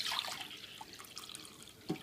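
Water pours and splashes into a stainless steel tumbler, a steady soft trickle with a few small drips and a slosh near the end.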